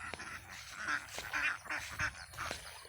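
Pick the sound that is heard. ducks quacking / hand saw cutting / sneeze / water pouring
ducks quacking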